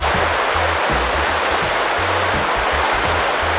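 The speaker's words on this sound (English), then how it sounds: "That normally is just a nice little quiet babbling little creek. Right now, not so much." A creek swollen with spring snowmelt rushes loudly and continuously near Calgary, a dense steady roar of turbulent water with no pauses and no talking.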